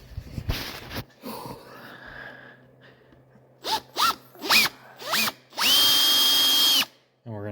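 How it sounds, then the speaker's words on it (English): A power drill drives long screws into a wooden bench in several short bursts, rising in pitch each time, then one long sustained run before stopping, with some handling noise before. "we're gonna just angle the drill right in line with that"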